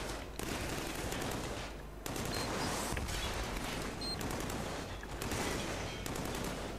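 Sustained automatic gunfire rattles through a Killzone 3 firefight, loud and dense rapid shots with a few brief pauses between bursts, no talking over it.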